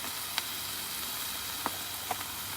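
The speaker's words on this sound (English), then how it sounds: "we're going to sear this, and then we're going to throw in our andouille sausage" Andouille sausage sears quietly in a pan with a soft, steady sizzle and a few faint clicks and taps, with no voices.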